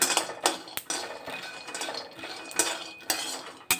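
Peanuts dry roasted without oil in a kadai over a gas flame, giving repeated clinks and scrapes of a metal spatula against the pan with a steady dry rattling between the strikes.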